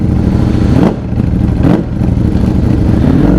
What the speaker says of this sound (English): that is so damn loud, that Acropoic exhaust